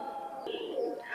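A pair of golden pigeons coo softly and steadily at close range, with brief brighter call notes rising near the end.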